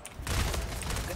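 Gunfire in Splitgate, a sharp burst of shots with booming low thuds that follows a brief quieter lead-in, loud and close.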